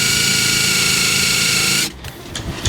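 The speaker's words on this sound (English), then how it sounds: "if you get a drill bit that's a bit bigger than that and drill down" A loud, steady high-pitched power drill whines continuously boring around a screw plug in a boat's teak deck, then cuts off abruptly, leaving scattered clicks and handling knocks.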